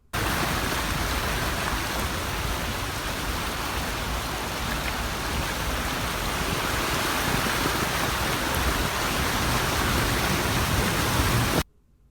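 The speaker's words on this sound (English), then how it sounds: "it started raining pretty hard." Heavy rain pours down steadily, a dense, constant roar of drops hitting surfaces with no other sounds, ending abruptly.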